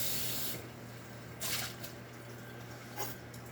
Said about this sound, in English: gonna rinse my bowl.